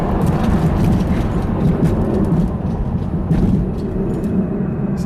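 Heavy low-pitched rumbling and thudding from a 1998 Lexus LS 400 driving over rough bumps, loud and continuous, with deep clunks rolling through from worn suspension strut rods.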